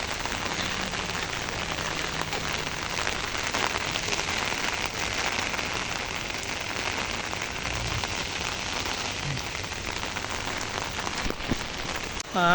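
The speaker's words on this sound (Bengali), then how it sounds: "অনেক বৃষ্টি হইতেছে গাইস।" Heavy rain falling, a dense continuous hiss and patter of drops on surfaces, loud and steady throughout with no voices.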